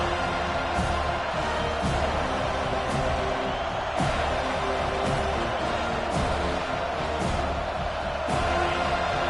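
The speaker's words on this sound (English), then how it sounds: "Decibels rising as the crowd gets behind this defense on 3rd down." Football stadium crowd roaring behind the defense on third down in a Virginia Tech versus Florida State game, a dense, continuous wall of cheering and noise with occasional sharp bursts, loud and sustained throughout.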